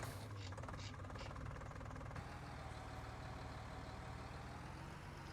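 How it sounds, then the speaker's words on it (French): A Fiat tractor engine in a farming video game runs steadily at idle, a loud continuous low rumble with no talk over it. "Donc on peut replier le tracteur, enfin la planteuse, et on va repartir avec notre Fiat."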